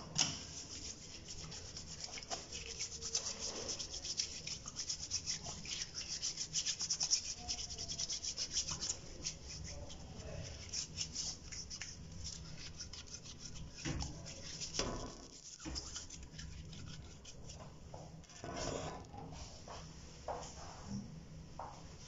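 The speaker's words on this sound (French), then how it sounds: "Sérum hydroalcoolique avant de prendre le masque." Hands rub together with hydroalcoholic sanitizer before putting on a mask in an operating block, a close, quiet, continuous rubbing and scrubbing with irregular swishes and faint friction over about twenty seconds, no speech.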